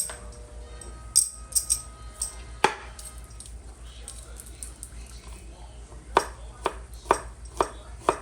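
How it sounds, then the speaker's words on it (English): A knife finely chops garlic on a board in scattered sharp taps, some in quick bursts, close by, with quiet kitchen noise between them. "I'm just chopping up this garlic as fine as I can."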